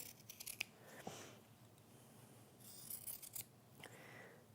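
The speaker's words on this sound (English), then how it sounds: "snip across on a 45-degree angle and take that excess away" Scissors snip through fabric at an angle while trimming excess beside the stitching of a collapsing coin purse, a few quiet, close cuts with soft rubbing of cloth between them.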